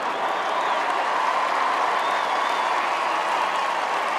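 A large live audience at a Formula 1 75th anniversary show claps and cheers for driver Max Verstappen, a dense, steady roar of applause that fills the whole moment.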